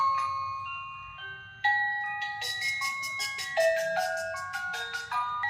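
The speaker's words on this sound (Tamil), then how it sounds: "சவுண்டு வேறு இருக்குது, வெறும் லைட் மட்டும் கிடையாது, சவுண்டு வேறு இருக்குது, மியூசிக் வேறு இருக்குது." A light-up moon lamp gift plays a chiming electronic melody, bright bell-like notes in a quick tune that gets louder and fuller partway through, heard close and without talk.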